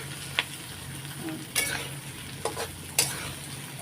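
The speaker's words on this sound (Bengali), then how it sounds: "এখন আমি নাড়াচাড়া দিয়ে আলুটাও লাল লাল করে নিয়ে তারপরে মশলাগুলো দেব" Chopped potatoes frying in a pan for a Bengali fish curry meal are stirred over a steady sizzle, with several distinct scraping strokes of a spatula against the pan.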